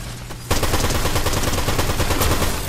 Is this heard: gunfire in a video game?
yes